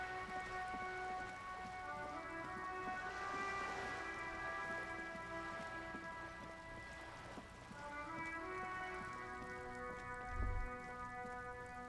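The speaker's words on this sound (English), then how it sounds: "All around you, rain falls on the great city of Rivershore." Steady rain falls over a city in the video game Disco Elysium, a continuous hiss of drops on surfaces heard throughout beneath sustained musical tones, with a brief low thud near the end.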